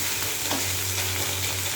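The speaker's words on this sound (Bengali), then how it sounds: "এই যে কেচকি মাছ ভাজা করছি।" Small kechki fish fry in a pan with a loud, steady crackling sizzle close by, continuous and unbroken over a low background hum, with no voices.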